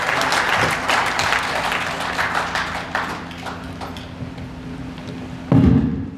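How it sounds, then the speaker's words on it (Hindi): An audience at a political speech gives a loud welcoming round of applause, sharp close claps thinning out toward the end, followed by a single heavy thump. "एक बार जोरदार तालियों के साथ आपका स्वागत।"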